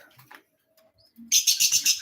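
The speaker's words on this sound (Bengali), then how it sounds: "এ হচ্ছে আমার পাখিগুলা" Pet birds in a home setting chirping, a run of bright rapid close chirps after a quieter stretch of faint scattered calls.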